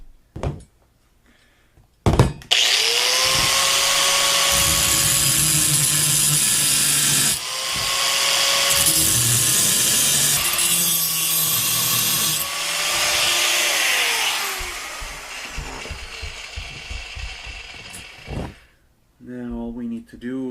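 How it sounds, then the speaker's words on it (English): A grinder cuts off a part during a Hondata S300 install with a loud, sustained whine, running in several long bursts separated by brief stops, with quiet handling noises before and after. "We got the grinder ready"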